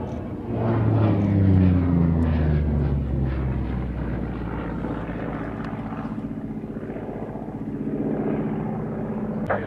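A Grumman Bearcat piston fighter flying at the Midlands Air Festival, a loud, steady propeller engine drone with a falling Doppler pitch as it passes, staying strong and continuous throughout.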